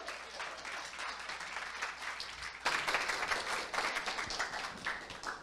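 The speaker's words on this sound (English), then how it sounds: "Give Jamie Robinson an applause, please." A conference audience on a stage event breaks into dense applause, many hands clapping at a moderate distance and swelling louder partway through before holding steady.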